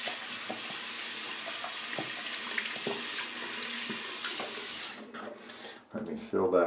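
Water from a bathroom tap runs steadily to rinse a straight razor, a loud close hiss that cuts off near the end, followed by brief clattering handling noise.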